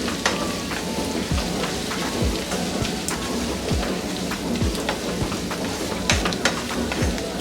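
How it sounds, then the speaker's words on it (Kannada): Masala mix for chitranna sizzles and crackles in hot oil, a dense, steady frying hiss with scattered sharp pops, close and loud, with no talking. "ಎಣ್ಣೆನಲ್ಲೇ ಫ್ರೈ ಮಾಡ್ಕೊಳ್ಳೋಣ."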